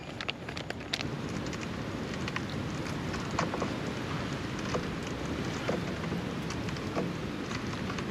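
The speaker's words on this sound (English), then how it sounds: "It's getting super windy." Constant broadband rush of strong tropical storm wind on an island, gusting and rattling, with scattered light impacts throughout and no speech.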